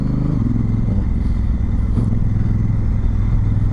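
A Honda Africa Twin with a DCT gearbox runs steadily through town, its engine drone continuous and close, with a small shift in pitch early on and no talk over it.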